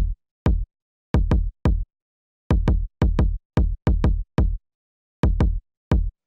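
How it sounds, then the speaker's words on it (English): Isolated kick drum from an organic hip-hop beat, thumping alone in a simple, slightly irregular pattern of short, punchy low hits with silence between them. "Next sound we have here is the kick"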